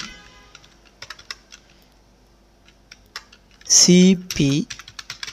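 Short bursts of computer keyboard keystrokes while entering a Linux copy command, scattered taps with pauses, then a voice speaks briefly near the end.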